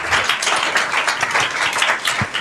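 Studio audience applause on a French television set, dense continuous clapping from many hands, fairly loud and steady throughout.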